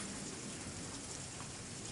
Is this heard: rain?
yes